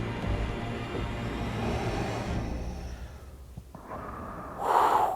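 Darth Vader's slow mechanical breathing in Obi-Wan Kenobi, a hissing respirator sound under a low rumbling score, ending in a louder, sharper breath.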